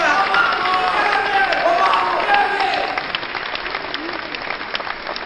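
Audience applause welcoming President Barack Obama and Governor Mitt Romney onto a presidential debate stage, loud dense clapping from a large crowd that eases off after a few seconds with voices underneath.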